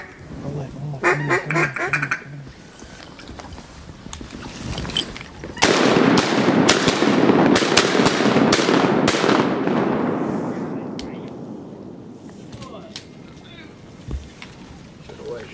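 Shotgun blasts ring out during a duck hunt in Arkansas, several loud sharp reports in quick succession over open country, echoing and fading, with duck calls and voices talking before the volley.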